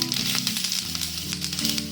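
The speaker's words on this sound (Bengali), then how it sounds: "এবার যে আলুটা আমি গ্রেট করে রাখলাম আলুটা দিয়ে দিলাম।" Grated potato hitting hot spiced oil in a pan sizzles loudly and steadily, a close, continuous frying hiss with faint stirring scrapes and no talk.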